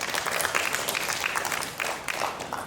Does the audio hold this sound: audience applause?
yes